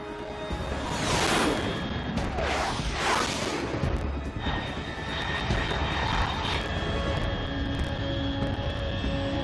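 A fast aircraft in Metal Gear Solid 3 roars overhead, with loud sweeping engine passes and whooshes rising and falling over a steady game background.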